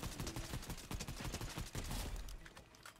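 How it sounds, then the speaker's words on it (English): Distant rapid gunshots from the Fortnite video game pop in a steady, continuous volley, fairly quiet and with no talking over them. "Where are those shots coming from?"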